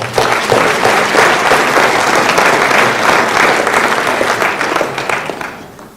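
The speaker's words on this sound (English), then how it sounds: "Let's give them a round of applause." Loud, sustained audience applause at a school fall sports awards ceremony, many hands clapping in a dense steady roar that gradually fades toward the end.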